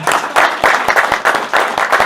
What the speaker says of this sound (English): That probably deserves a round of applause there for thanking everybody.